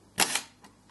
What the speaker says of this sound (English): All we do next is push the shutter button